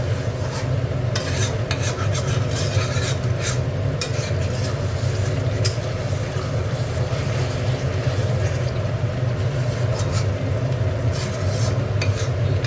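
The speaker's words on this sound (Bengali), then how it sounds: "দেখো আলুটা, মাংসটা কষা হয়ে গেছে, এবার আলুটা দিয়ে দিচ্ছে" Chicken and potatoes stir-fried in a pan with little oil give a steady scraping stir and soft sizzle, continuous and close, with no voices.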